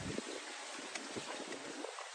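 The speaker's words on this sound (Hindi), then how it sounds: "ठंडी हवा चल रही है, आपको भी हवा सुनाई पड़ रही होगी।" Cold wind blows outdoors in Vietnam, buffeting the microphone with a faint, constant rumbling rush and irregular gusts.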